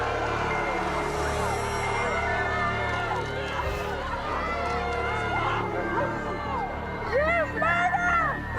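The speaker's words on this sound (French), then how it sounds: "Timothy McVeigh doit faire face aux cris d'une foule en colère qui le traite de tueur d'enfants" An angry crowd shouts and yells at Timothy McVeigh during his transfer from the local courthouse to Oklahoma City, a dense tangle of raised voices with louder cries near the end.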